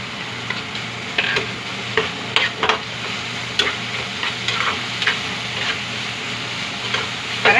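Shredded tuyo, salty dried fish, crackles in hot oil in a pan while a utensil scrapes and stirs it, giving a steady sizzle broken by frequent sharp ticks and clinks.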